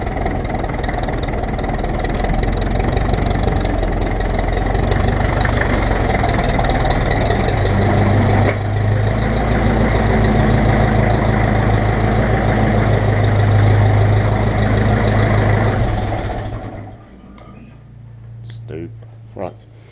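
A Ferguson TEF20 tractor engine runs steadily and loudly up close with a constant low rumble for most of the stretch, then cuts out near the end, leaving quieter ambient noise and a few faint knocks.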